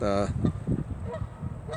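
Canada goose honking rings out at the start, with more faint honks scattered behind a person talking.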